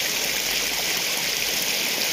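A fine jet of water sprays from a pump sprayer on a farm field of wheat and garlic, producing a steady, close hiss with no pauses and no voices.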